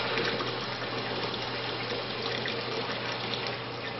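Water flows through a Bradley Navigator thermostatic mixing valve at about eye-wash flow rate, giving a steady, even rush with no talk over it.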